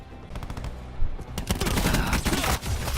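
GKS gun fired in a first-person shooter video game, sustained rapid automatic bursts, loud and close, with a brief pause before heavier continuous fire.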